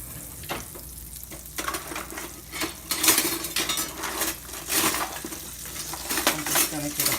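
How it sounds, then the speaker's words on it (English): Two sticks of butter sear and sizzle in a hot pan, a steady crackling hiss with brief clinks of utensils against the cookware, close and moderately loud throughout. "So I got 2 sticks of butter searing."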